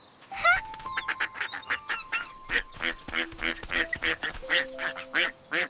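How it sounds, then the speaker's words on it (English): A string of loud, nasal quacks and honks from an animated cartoon duck, repeated in quick irregular bursts, close up with no talking. "Quack, quack, quack!"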